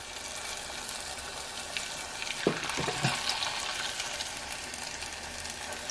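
Churro bites frying in oil, a steady soft sizzle close by with a few brief louder crackles and bubbling bursts in the middle, no voices.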